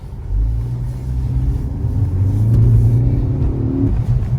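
A 2016 Ford Focus engine revs at about half throttle, a loud, close, deep rumble that rises and holds steady for several seconds with no voices.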